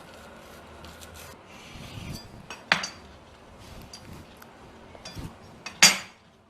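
Knife slicing through a vegetable cheese toast into four pieces, giving soft rubbing, scraping strokes with a few sharp clicks of blade on plate, fairly close and quiet, no talking.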